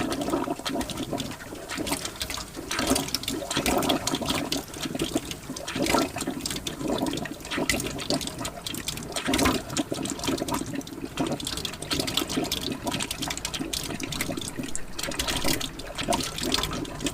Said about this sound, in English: I've just temporarily wired up the pump for now, so I can test it again and see if it's draining away properly